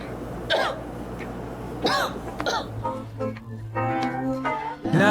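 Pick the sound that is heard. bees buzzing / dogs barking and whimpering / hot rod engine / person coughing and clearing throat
person coughing and clearing throat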